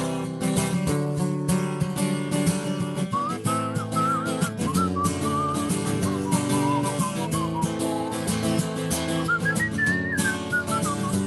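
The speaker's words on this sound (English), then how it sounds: "Whistle along, everybody." A crowd at a comedy club show whistles a wavering melody along with live music, the whistled tune rising and falling over steady instrumental backing.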